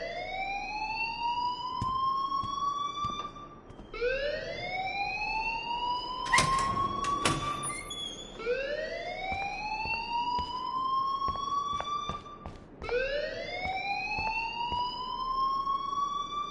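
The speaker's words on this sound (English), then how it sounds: "please turn off that alarm since that's your job" A school alarm in the Life is Strange video game wails in long rising sweeps, repeating about every four seconds, loud and continuous with a brief burst of clatter partway through.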